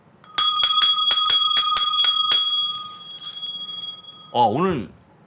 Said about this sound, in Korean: 종을 제가 한번 치겠습니다